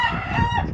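A fine game rooster crows nearby, one brief loud call with a strained, harmonic tone.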